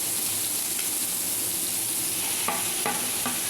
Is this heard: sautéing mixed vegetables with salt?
yes